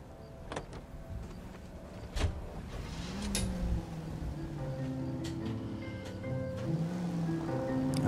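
A car in the video game L.A. Noire starts with a few clicks and thumps, then its engine hum rises into a steady, gradually strengthening drone, moderately quiet throughout.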